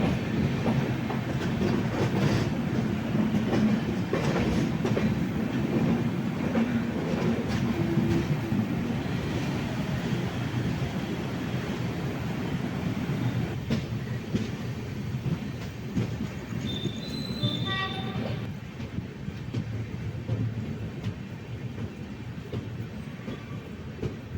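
A Trivandrum Central Mail sleeper coach rolls along in steady continuous rumble and wheel clatter, close and loud throughout, with a brief high squeal of wheels or brakes near the end.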